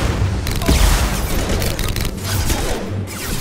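Heavy weapon fire from a high impact shot in Mass Effect 2, a dense, loud, continuous burst of booming blasts with broadband crackle lasting throughout, no talking.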